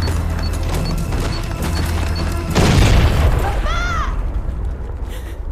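A bomb goes off in the video game Far Cry 6 as a sudden loud boom with a splintering crash. It rises out of ongoing game noise and then fades into a rumble with a brief whistling tone.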